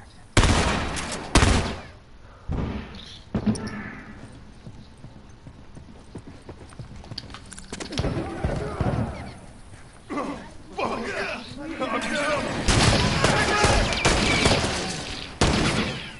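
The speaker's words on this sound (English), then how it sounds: "He's using a fucking gun." Enemy gunfire in The Last of Us: a few sharp, loud shots early on, followed by scuffling and rising combat noise, with someone talking over parts of it.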